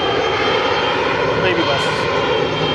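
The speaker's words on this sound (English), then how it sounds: "We have a little Embraer taking off." A small Embraer jet taking off at Sky Harbor airport, its engine roar steady and loud throughout with a broad rushing hiss, voices faintly talking underneath.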